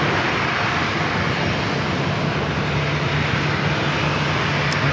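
A UPS cargo plane inbound from Louisville arrives at San Diego airport, its engine roar a steady, loud, broadband rumble that holds evenly throughout with no voices.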